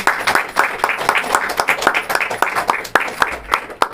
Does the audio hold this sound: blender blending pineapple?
no